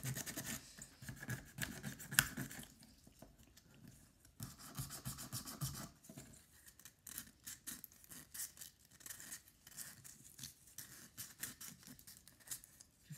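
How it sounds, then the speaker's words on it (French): Steady rasping and scratching of a file worked back and forth over a model tank wagon to prepare it for weathering, close and fairly quiet with irregular strokes and brief pauses. "faut bien limer partout pour que la patine adhère bien au wagon"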